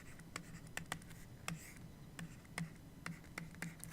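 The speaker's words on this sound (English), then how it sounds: "I'm going to start with writing down a few vectors." Pen scratches on paper as vectors are written out by hand during a linear algebra lecture problem session, quick rhythmic strokes and ticks, close and faint with a low hum behind.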